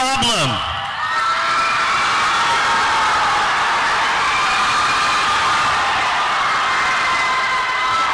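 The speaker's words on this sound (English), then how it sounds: "We deserve to be booed." A large crowd of students boos and yells in a dense, sustained roar of voices that stays loud throughout, opening with a brief high shout.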